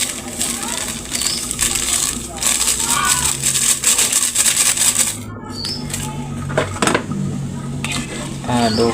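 Food gets stirred in a pan with shallots, lemongrass and bay leaves, giving repeated metallic scrapes and clinks of a utensil against the pan, busy and close, with a voice speaking over it.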